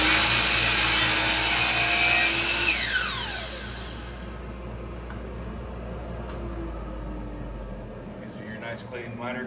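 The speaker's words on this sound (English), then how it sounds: "you're just simply cutting a 45 angle on your workpieces" A power miter saw cutting a 45-degree miter in crown molding whines loudly at full speed for a few seconds, then spins down and fades, leaving quieter room noise with light handling sounds.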